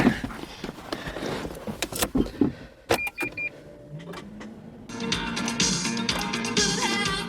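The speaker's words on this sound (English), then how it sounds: "Oh, immobilizer's kicked in. You see it beep there." Smart Roadster Brabus coupe: a short run of three high electronic immobilizer beeps sounds as the driver climbs in, set amid door and cabin handling noises, with a steady motor whir taking over near the end.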